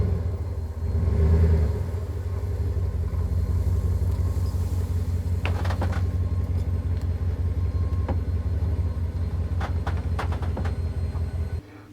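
A 2019 Ram 1500 pickup with air suspension idles and rolls slowly up to a service bay, giving a steady low engine rumble throughout with a few brief clicks and ticks near the end.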